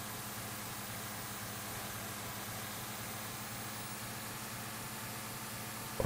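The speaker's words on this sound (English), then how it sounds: "We are diesel powered now. Ah, listen to that." A diesel-powered truck engine runs steadily in fifth gear on a long highway drive, a continuous broadband drone with a low rumble, close and even throughout, rising briefly at the very end.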